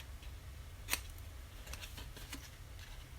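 Scissors snip pieces of crafting paper for a box, with a sharp crisp cut followed by several lighter, scattered snips, close and quiet in a hushed room.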